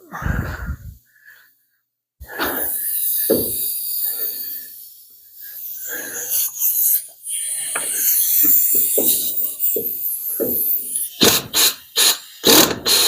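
Someone works a lug nut on a 1934 Plymouth coupe during a front spring change. Close, irregular ratcheting clicks and mechanical grinding come in bursts, with sharp clanks near the end.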